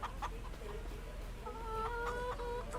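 Hens clucking in a farming video game: a few short clucks early on, then a steadier run of calls in the second half over a constant low background hum.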